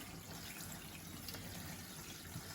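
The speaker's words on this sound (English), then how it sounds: "I will literally just pop the water on, just double check that it's the correct temperature" Tap water runs steadily over a newborn puppy during a bath, a soft, continuous splashing stream with no breaks and no voices.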